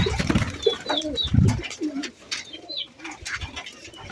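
Domestic pigeons coo in low, rolling bursts, several overlapping calls close by, with a few faint higher chirps in between.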